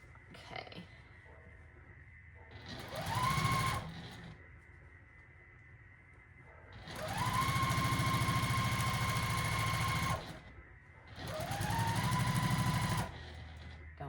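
A home sewing machine stitches quilt block seams in three bursts, each a steady whirring hum that spins up and runs several seconds before stopping, with quiet gaps between.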